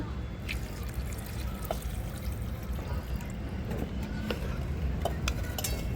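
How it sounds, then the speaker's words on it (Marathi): Water poured into chicken curry simmering over a wood-fired chuli stove, a soft, steady trickle and splash under a constant low rumble of cooking noise for about six seconds. "आपण हे पाणी टाकून घेतोय थोडस"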